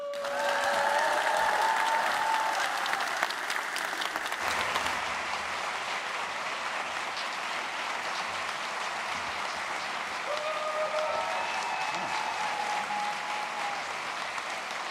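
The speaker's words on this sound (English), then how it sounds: "Please give a huge Amsterdam Ajax Arena round of applause to Colson Whitehead" Sustained crowd applause in a large arena in Amsterdam, loud and continuous for the whole stretch, with scattered cheers and whoops over the dense clapping.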